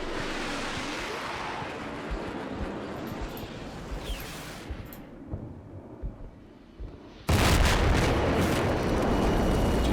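Air attack explosions in the Cold War wargame Combat Mission, rumbling blasts and crackling impacts with brief sharp bursts, then a sudden loud, dense roar of fire in the final seconds.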